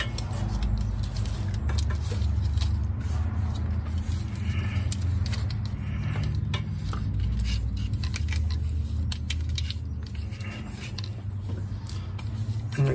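Electrical tape is wound several times around a 2008 Chevy Malibu wiring harness, giving a steady, close, scratchy rustle and crinkle that runs without pause and has no talking over it.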